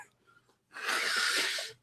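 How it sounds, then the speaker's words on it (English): A person gives one hard, sustained nasal blow lasting about a second, loud and close, after a brief quiet breath. "I gotta blow my nose."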